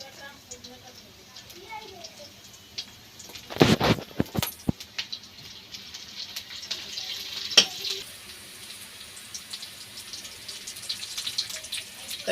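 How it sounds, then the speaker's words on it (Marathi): Cumin seeds hit hot oil for tempering while matar paneer is being cooked, setting off a sudden loud sizzling burst that settles into a steady crackling fry, with occasional clinks from the pan. "जिरं टाकून घेऊया आधी।"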